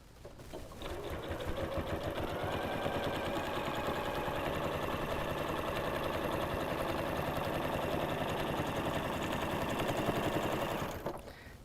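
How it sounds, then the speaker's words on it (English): Sewing machine stitching a fabric seam for a scrappy quilted potholder, a fast steady mechanical chatter running continuously for about ten seconds, close and moderately quiet, stopping abruptly at the end. "So lay your fabric, sew your seam."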